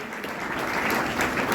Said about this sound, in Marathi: टाळ्या जोरात वाजल्या पाहिजे.